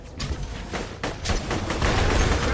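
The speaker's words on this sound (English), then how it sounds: "Jonaas, there's a freaking tentacle shooting at me, man" A tentacle enemy in Borderlands 2 fires in quick bursts of sharp, crackling shots, building to a dense, continuous barrage toward the end, loud and close with no talking.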